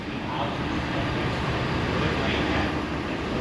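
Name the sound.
C-130 Hercules military aircraft flying over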